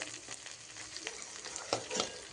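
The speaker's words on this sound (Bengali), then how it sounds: "পেঁয়াজটাকে ভালো করে ভেজে নিতে হবে" Onions sizzle and crackle in hot oil in a pan for a village-style chicken curry with new potatoes. The steady hiss is close and fairly quiet, with a few soft stirring scrapes and no talking.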